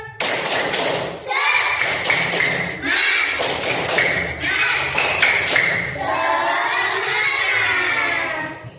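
A group of children performs a tepuk semangat routine, chanting loudly in unison while sharp rhythmic claps and thuds punctuate the phrases, with shouted voices throughout.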